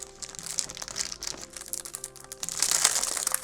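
A simple plastic bag with a piece of styrofoam inside, packaging for an iPhone 15 Pro Max MagSafe case, crinkles close up in quick, irregular rustles that grow busier toward the end.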